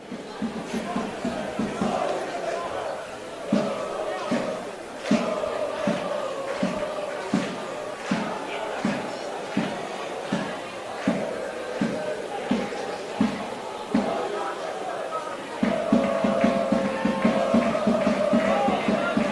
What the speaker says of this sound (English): it's a terrific crowd that's made the short trip over